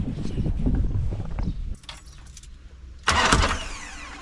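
A broken-down VW T3 van being towed in the Brazilian rainforest cranks and its engine catches, a loud close burst after a quieter stretch of low rumbling.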